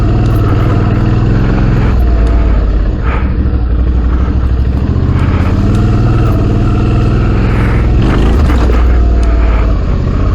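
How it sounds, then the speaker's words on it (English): A truck engine rumbles loud and close with a steady low drone and some rattling, continuous throughout with no break. "Where is this truck going?"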